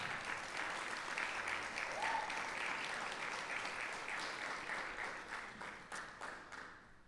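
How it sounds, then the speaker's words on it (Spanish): A church congregation claps in a sustained, fairly distant wave of applause that thins toward the end, leaving a few separate claps audible at the close. "Un fuerte aplauso para tu Señor"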